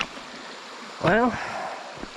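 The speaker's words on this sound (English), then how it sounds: "the water's loud, but it ain't big." Runoff creek at Lake Bennet, a small stream with steady, moderately loud rushing water flowing throughout, briefly overlaid by a short voiced sound near the middle.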